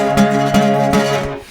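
A bluesy five chord is strummed on an acoustic guitar, close and loud, with several quick rhythmic strums ringing together.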